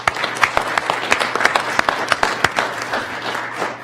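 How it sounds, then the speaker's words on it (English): Applause for a team member at a board meeting, with a steady wash of claps from a modest audience and a few louder individual claps near the microphone, continuing for several seconds. "Round of applause for Matt"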